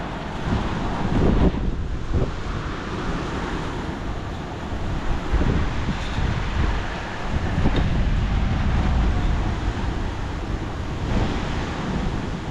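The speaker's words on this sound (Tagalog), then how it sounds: "Lakas ng hangin guys." Strong wind roars and gusts against the microphone during a rainy night on the road, a loud, continuous rushing sound that rises and falls, with no talking.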